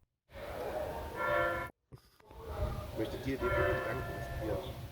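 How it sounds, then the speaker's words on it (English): A church bell rings with sustained, resonant tones, heard twice with a short gap, while a person talks over it, along the Way of St. James between Hontanas and Boadilla. "Oh, do you hear the bell?"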